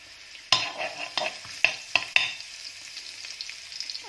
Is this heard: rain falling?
no